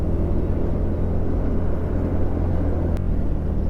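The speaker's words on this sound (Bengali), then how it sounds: "চলে এসছি ট্রাকের জ্যামে" Heavy truck traffic jam on Old Delhi Road near a toll, heard from a TVS Ntorq 125 cc scooter: a constant loud low rumble of idling engines with one brief sharp click near the end, no talk.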